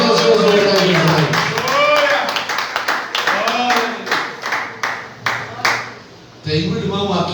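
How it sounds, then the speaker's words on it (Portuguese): A church congregation claps in a steady rhythm, close and fairly loud, with voices talking and calling out over the clapping before it briefly pauses and resumes. "Palmas para Jesus."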